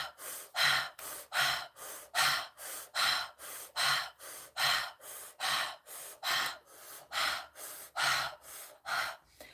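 Slow deep breathing exercise, each long breath rising and falling in a steady rhythm of about one every half second to second, close and airy, with brief gaps between breaths and no talking.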